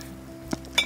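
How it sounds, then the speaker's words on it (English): Buried antique glass pieces clink against each other while being dug out of soil among roots, two short bright chinks about a quarter second apart over low background hum. "can hear so much glass under here"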